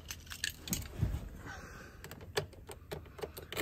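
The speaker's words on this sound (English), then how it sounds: "I guess I'll put the keys up on the" A bunch of keys jangles and clinks as it is set on a pickup truck's roof: a cluster of light metallic rattles and taps, close by, over faint outdoor background noise.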